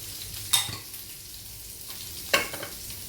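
Coconut oil heating in a hot pan on the stove, a soft steady sizzle with two brief sharp clinks of a utensil against the metal, quiet and close, with no talking.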